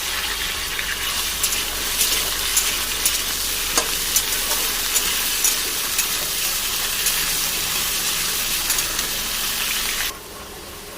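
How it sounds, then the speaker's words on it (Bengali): Potatoes frying in hot oil in a Bengali kitchen, a loud, steady close sizzle with scattered crackles and spatters running throughout, dropping suddenly quieter near the end. "আলুটা লাল করে ভেজে নেব।"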